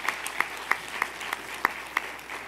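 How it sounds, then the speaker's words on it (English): Audience applause at a reception for faith leaders hosted by a city mayor, heard as a steady patter of many hands clapping with sharper individual claps standing out, fairly close and without speech. "I would like you to please give them a round of applause."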